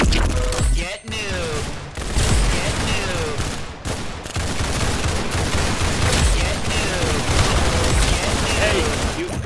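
Rapid, dense gunfire from the Roblox-style shooter game Arsenal, loud and continuous with overlapping bursts and brief pauses, while a voice talks excitedly over the shooting.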